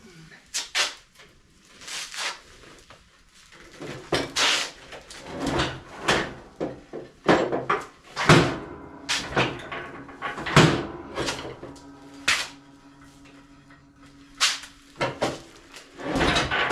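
A Ballard Super Jack mower lift is lowered with a mower on it in a series of loud, irregular metallic clunks and rattles spread across the clip, with someone talking in between.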